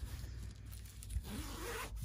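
The zipper of a handmade fabric zipper pouch is drawn, giving a close, continuous rasping zip of a little over two seconds with a rising sweep toward the end, fairly soft, with no talk.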